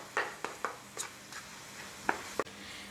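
Ground beef seasoned with salt, pepper and oregano being stirred and broken up in a pan: a series of distinct, fairly quiet spatula scrapes and taps at irregular intervals over a faint sizzle.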